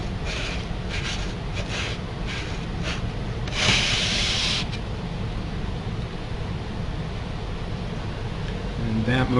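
A sanding beam rubs back and forth along the frets of a guitar neck clamped in a vise, giving a steady abrasive scraping with a louder, brighter pass in the middle and quiet background noise throughout.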